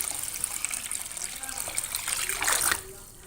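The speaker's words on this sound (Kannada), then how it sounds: "ಈಗ ನೀರನ್ನು ಹಾಕ್ಕೊಳ್ಳೋಣ." Water poured onto soaking rice and urad dal for idli, a steady gushing splash that swells louder toward the end before cutting off, close by.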